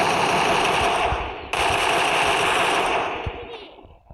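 Rapid, continuous automatic gunfire from the video game Free Fire, loud and dense for about three seconds before tapering off, with no talk.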